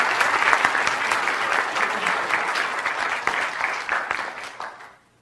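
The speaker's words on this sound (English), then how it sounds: "let's give Rachel another big round of applause" Audience applause after a lecture in a lecture series, a dense, steady wash of many hands clapping throughout, moderately loud, fading out at the very end.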